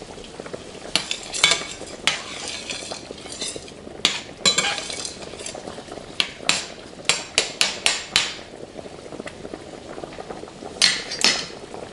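Shrimp and garlic sauté in a pan with a splash of cognac, giving a soft continuous sizzle. Irregular clinks and scrapes from a utensil against the pan are scattered across it, and no one speaks.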